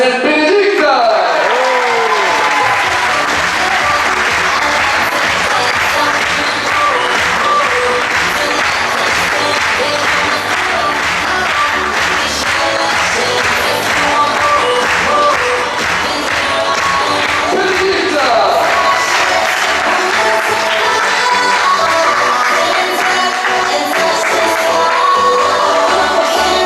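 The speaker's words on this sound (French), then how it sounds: "Applaudissements s'il vous plaît pour mademoiselle Bénédicte." A resort crowd at a team presentation applauding loudly, a dense sustained roar of clapping and cheering with music playing underneath, steady for the whole stretch.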